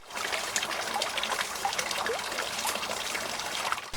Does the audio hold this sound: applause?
no